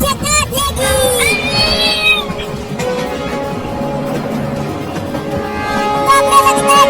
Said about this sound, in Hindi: ये खतरनाक बिल्ली मुझे काट लेगी